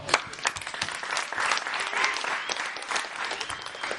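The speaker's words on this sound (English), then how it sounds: "let's give our sponsors a round of applause" An audience at a sports cafe event claps for the sponsors, a dense burst of applause that swells quickly and holds steady for several seconds at moderate distance.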